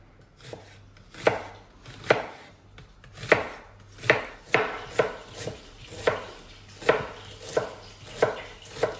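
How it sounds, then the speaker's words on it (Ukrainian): Steady rhythmic knife chops through onion on a cutting board, about a dozen even strikes, close and fairly soft, with no talking. "поки ми будемо шинкувати цибульку"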